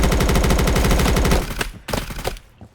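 Sustained automatic gunfire from a tactical shooter in the video game BRM5, a loud, fast stream of rapid shots for about a second and a half, then a few scattered bursts that trail off.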